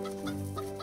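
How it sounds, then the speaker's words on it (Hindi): A hen clucking outside a house, short throaty clucks heard close and clear over a steady tonal background, with no voices. "तभी मदन को घर के बाहर एक मुर्गी की आवाज सुनाई दी।"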